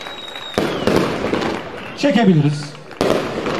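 Fireworks bursting at a gala night, sharp cracks and rumbling booms at intervals with a whistling rise between, while people talk nearby.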